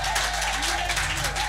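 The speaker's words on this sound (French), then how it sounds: "On acclame plus fort que ça." A church congregation applauds and cheers, a dense, steady wash of clapping and crowd noise filling a short moment of a worship service.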